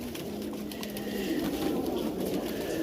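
Pigeons cooing at a pigeon market, soft low coos repeating against a steady ambient background, with no voices.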